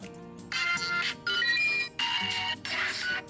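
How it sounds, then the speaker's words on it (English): A stock ringtone plays on a Cubot X50 smartphone, four bright melodic bursts in a regular repeating rhythm with short gaps, clear and close. "Let's see the ringtones on this phone."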